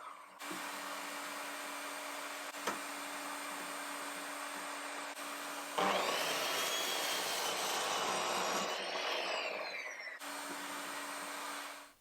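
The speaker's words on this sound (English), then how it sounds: "So I cut a piece of scrap on my miter saw." Miter saw cutting a piece of scrap wood from an old lumber rack upright: a loud whining motor hum, then a harsher rising roar as the blade bites through, easing back to the whir and stopping.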